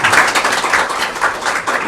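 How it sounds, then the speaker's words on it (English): Applause ripples through a room at a governing board meeting, a dense, uneven patter of many hands clapping at moderate volume with no talk over it. "I think we deserve a round of applause"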